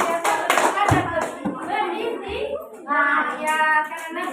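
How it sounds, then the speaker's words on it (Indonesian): A group of children in a classroom claps for a group of classmates, close, rapid hand claps mixed with excited kid voices and a teacher talking over them. "tepuk tangan untuk kelompoknya"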